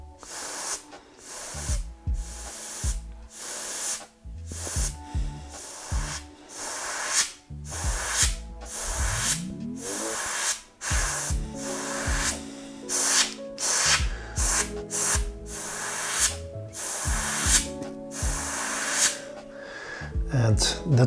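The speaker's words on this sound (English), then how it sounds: "And that's how I spray these hibiscus flowers." Airbrush spraying paint through a stencil onto a carbon bicycle frame to make hibiscus flowers, a series of short hissing bursts separated by gaps, mixed with intermittent speech.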